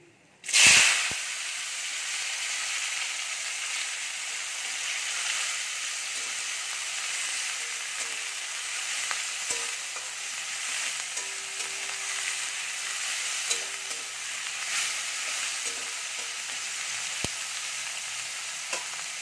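Chopped onion hitting a hot pan for a chicken curry, bursting into a loud sizzle that settles into a steady, close frying hiss lasting throughout, with a few faint stirring clicks.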